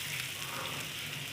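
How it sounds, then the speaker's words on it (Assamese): Onions fry in a little oil with a steady, even sizzle that runs the whole time without a break and with no one talking. "এয়া এনেকৈ কৰি অকণমান তেল ভাজি লৈছোঁ পিঁয়াজখিনি"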